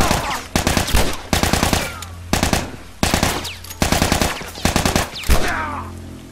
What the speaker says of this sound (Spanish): Bueno, pues 5 tiros, 4 que se ha llevado este tío.